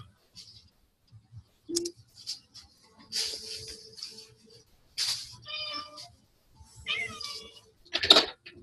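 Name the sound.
cat meowing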